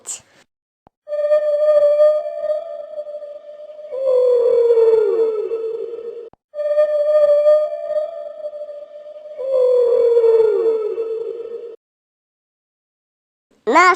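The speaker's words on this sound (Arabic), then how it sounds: "حوت." Whale calls, long drawn-out tonal moans that rise and sink, repeated in two similar phrases with short silent gaps, clear and resonant.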